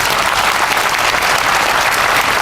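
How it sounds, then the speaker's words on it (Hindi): Loud, dense applause fills a hall as an audience claps together for the representatives of Narayan Sansthan at a spiritual gathering, steady and continuous with no voices over it. "उसके लिए हम लोग एक जोरदार तालियां बजाएंगे"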